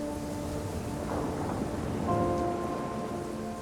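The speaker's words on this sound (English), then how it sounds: "along the coast in the far north, a storm is brewing." Coastal storm in the far north, with steady heavy rain pouring alongside low rumbling thunder that swells and fades, continuous and enveloping with no voices.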